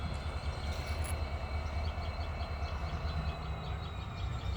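The Agartala Express stands at Karimganj Junction, an old district station, with a steady low rumble of the train running throughout and faint high tones and chirps above it. No one speaks.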